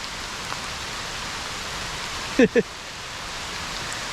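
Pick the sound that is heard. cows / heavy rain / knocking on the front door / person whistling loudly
heavy rain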